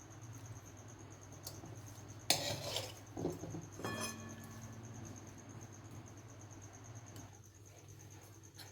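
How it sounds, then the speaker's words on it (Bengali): Egg and fried onion being mixed together in a tiffin box, with a few clinks and scrapes of a utensil against the container, scattered over a quiet background hum. "খুব ভালো করে সব কিছু একসাথে মিশিয়ে নেব"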